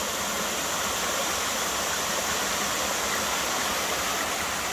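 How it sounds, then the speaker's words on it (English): Waterfall at Emery Gap in Frozen Head State Park, Tennessee, swollen after a night of heavy rain, gives a steady, loud broadband rush of falling water with no break and no voices. "it rained pretty hard last night, so it's got these waterfalls going"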